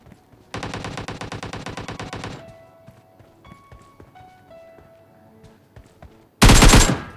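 A rapid automatic burst of gunfire in the mobile battle royale game PUBG Mobile rattles for about two seconds, followed by scattered footsteps and small in-game clicks, then a loud, harsh blast of fire at the end.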